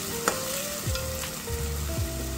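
Chopped onions fry in hot oil in a pan toward golden brown for an egg and dried shrimp curry: a steady, close sizzle with a few soft stirring knocks and no voices.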